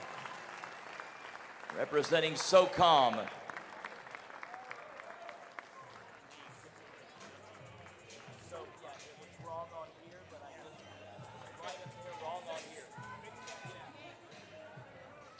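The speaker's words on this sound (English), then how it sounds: "Round of applause, Chase Tanton" Audience applause at a military powerlifting competition, a burst of clapping rising briefly and fading under an announcer's amplified voice in a large hall.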